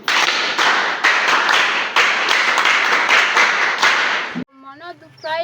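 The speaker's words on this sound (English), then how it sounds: "Clap hands for him." Classroom of primary school pupils clapping hands for a classmate, a loud burst of rapid, uneven claps lasting several seconds before cutting off to a brief voice.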